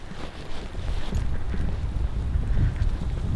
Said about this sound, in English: The wind's blowing me in the face right now.